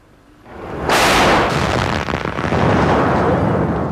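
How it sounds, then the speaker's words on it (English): A loud mortar bomb blast in a London street, a sudden roaring burst that swells and rumbles on with sustained noisy debris for several seconds, no talk. "And there was this tremendous explosion."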